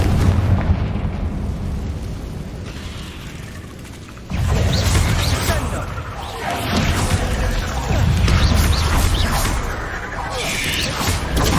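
Repeated Confringo spell blasts in Hogwarts Legacy, loud booming explosions bursting over a dense, continuous roar of combat effects, with spoken spell names in between.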